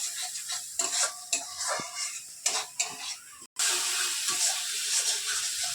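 Masala frying for katla fish curry, with a soft sizzle and intermittent scraping stirs in the pan, close and moderately loud, with a brief break partway.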